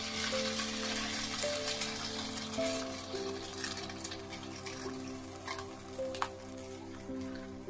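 Water, about 100 ml, poured into a pan of chicken, giving a continuous wet sizzle and splashing with scattered crackles and drips, fairly soft and close.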